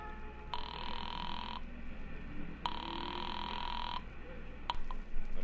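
A telephone rings after a nickel is dropped into a pay phone and Republic 2809 is dialed: two long, steady rings separated by a pause, then a short click, all fairly close and clear over a low background hum.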